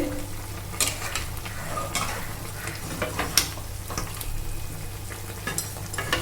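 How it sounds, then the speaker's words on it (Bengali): Chicken sautéing in oil with turmeric for a dhaba-style chicken curry: a steady sizzle of frying under repeated scraping and clicking stir strokes, with no voices. "চিকেনটা কিন্তু আমি কষতে দিয়েছিলাম তেলের সঙ্গে শুধুমাত্র হলুদ দিয়েছিলাম"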